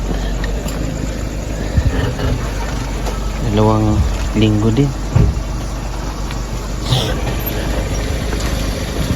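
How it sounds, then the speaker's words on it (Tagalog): A personal motorcycle that had not been run for two weeks idles nearby in a low, steady rumble, with brief rising engine tones and people talking over it. "Ito ang aking motor eh."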